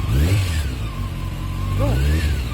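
Honda CBR 600F4i sport motorcycle engine revving up and down in rising and falling pitch sweeps, loud and close throughout, with people talking over it.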